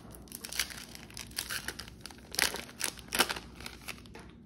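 A Yu-Gi-Oh Burst of Destiny booster pack is torn open and handled, giving close crinkling and crackling foil bursts at an irregular rhythm with no talking.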